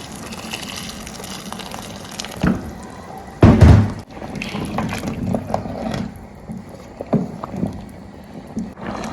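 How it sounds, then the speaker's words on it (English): Water poured from a kettle into a cooking pot while making Angwamo oil rice with salted beef, heard as a short loud gush lasting about a second, framed by quieter splashes and kitchen clatter. "I'll add water from the kettle."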